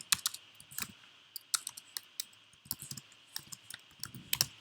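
Typing on a computer keyboard while writing JavaScript code, with quick irregular bursts of crisp key clicks up close and short pauses between them, and no speech.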